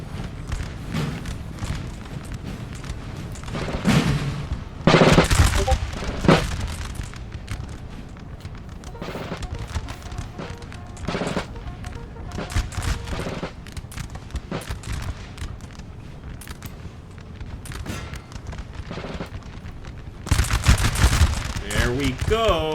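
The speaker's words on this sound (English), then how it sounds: "Finally, we're going to get a proper volley." Massed musket infantry volleys crackle in a Napoleonic-era war video game, with British troops and Spanish allies firing as a battle rages; dense rattling bursts swell loudly around several moments amid continuous battlefield din, with some talk mixed in.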